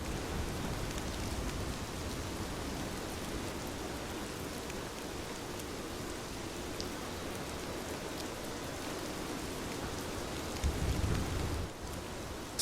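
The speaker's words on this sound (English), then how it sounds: "the sound of rain against glass and the distant rumble of thunder" Steady rain beats against window glass through the whole stretch, a dense even hiss with low rumbles of far-off thunder, one swelling briefly near the end.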